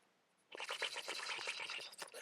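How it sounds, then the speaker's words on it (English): Soft, steady bristly scratching of makeup brushes sweeping over skin, close and continuous after a brief quiet start, with rapid rhythmic strokes. "If you listen carefully, listen to the brushes."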